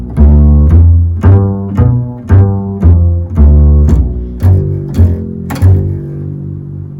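A double bass plucks a rising and falling arpeggio, about ten distinct notes in steady rhythm, each ringing deep and full before the next, played alone.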